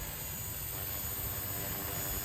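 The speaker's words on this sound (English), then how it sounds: "I've been flying this helicopter a lot longer than the 360" A Blade 230s RC helicopter flies close by, its steady motor whine and rotor buzz holding level for a couple of seconds.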